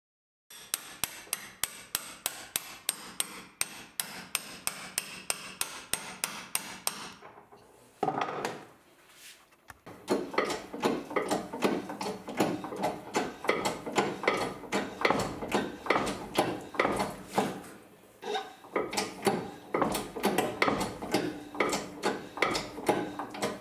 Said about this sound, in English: the push broach here is only 300 millimeters long. Therefore, it has to be broached in several cuts